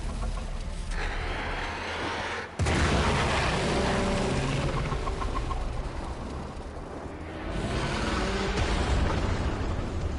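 Explosion in a video game: a heavy boom hits early and is followed by a long roaring, crackling rumble with debris noise that stays loud throughout.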